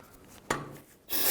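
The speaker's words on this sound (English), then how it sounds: "you can use a puller and separate these 2" A puller in a vise forces the idler arm off its assembly on a 2000-06 GMC Yukon, with one sharp metallic pop as the parts let go, then a rising scraping rustle of handling close by.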